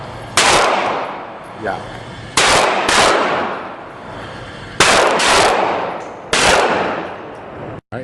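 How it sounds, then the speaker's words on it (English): Handgun shots ring out at an outdoor shooting range from about 7 yards, five loud sharp cracks spaced about a second or two apart, each trailing a long echoing decay, with a brief voice in between. "Now she's shooting about 7 yards out"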